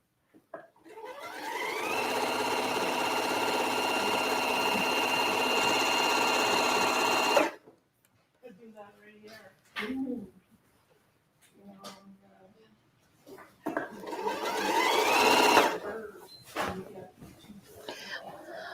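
A Janome 6650 sewing machine whirs steadily for several seconds while piecing a quilt top, then stops; a quiet voice speaks between pauses before another short burst of rapid stitching.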